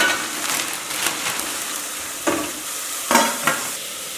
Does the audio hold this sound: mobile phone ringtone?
no